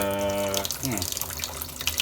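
Water runs from a Xiaomi water purifier during installation, a steady broadband rush that follows a brief tonal hum at the start and continues throughout, fairly close.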